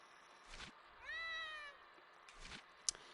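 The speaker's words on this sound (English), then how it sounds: "Cat." A cat gives a single clear, drawn-out meow in the game Gravity Rush 2, set between soft thuds and a brief sharp tick, heard alone against quiet background.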